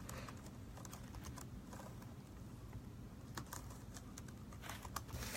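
Faint, steady typing on a computer keyboard: rapid, continuous soft key clicks with no pauses or talking.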